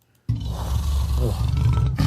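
A deep, rumbling animal growl starts abruptly and rolls on steadily for nearly two seconds, loud and close, then cuts off.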